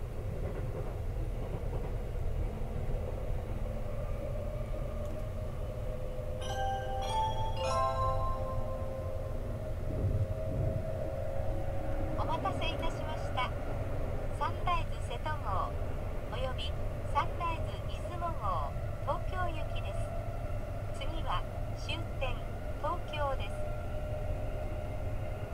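Train rumble and rail noise as an E235 series and a 285 series train run side by side, with clattering wheels and faint dings, steady and continuous, with some voices talking.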